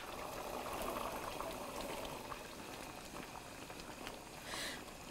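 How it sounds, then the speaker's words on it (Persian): A pot of Persian green bean stew simmers with a steady, close bubbling and gurgling that carries on without a break, with no voices. "این لوبیاها حدود 20 دقیقه طول میکشه که بپزه"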